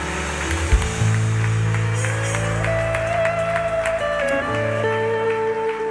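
A church congregation claps steadily in praise, the applause spread and diffuse beneath loud sustained keyboard worship music that carries through the whole passage.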